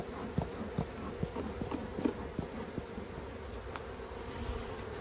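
Honeybees buzz around an open hive during maintenance, a steady faint drone with scattered louder passes of individual bees flying close, and no talking.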